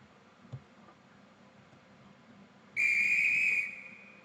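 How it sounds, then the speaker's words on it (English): A train guard's whistle gives one loud, piercing blast lasting under a second, preceded by quiet station ambience with a faint tick. "So now I'm going to blow my whistle again."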